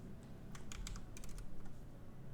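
Quick clicks from a computer mouse or keyboard while a flyer is edited on a computer, a cluster of faint, sharp taps in two short bursts over a low, quiet room hum.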